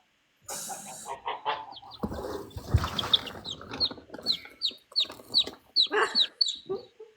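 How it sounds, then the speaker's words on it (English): A flock of farm turkeys on a moringa farm, clucking and gobbling in a quick, repetitive series of close calls with some rustling and flapping. "I'll have to forgive the honking. Turkeys are very good."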